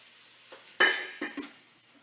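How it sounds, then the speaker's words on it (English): A metal lid clanks onto a frying pan of frozen pierogies, first with one sharp contact and then two smaller rattles as it settles, all close by and clear. "we're going to take our cover and we're going to cover it up"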